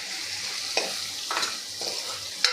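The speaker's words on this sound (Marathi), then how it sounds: "आता हे सगळं आपल्याला मिक्स करून घ्यायचं आहे" A tempering with turmeric and coriander is stirred in a pan for amti, a low steady sizzle under a few spaced scrapes of the spoon, close and moderately loud with no speech.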